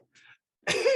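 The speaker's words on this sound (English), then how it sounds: "She does have an adorable little cough." A small, soft cough from a woman, a faint brief sound followed by a louder, harsher burst close to the mic.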